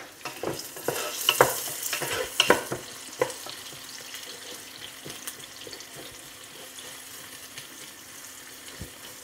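Onions frying and being stirred in a pan for beef kaldereta, a few sharp scraping strokes and crackles early on, then a softer, steady sizzle that continues alone at moderate distance.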